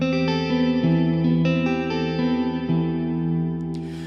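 A sustained electric guitar chord with heavy chorus and distortion, ringing steadily with small pitch shifts, then fading near the end.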